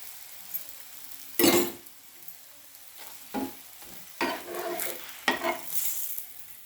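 A chapati roasts in oil on a pan, giving soft sizzling with several bursts of scraping and pressing against the metal at irregular intervals; no voices.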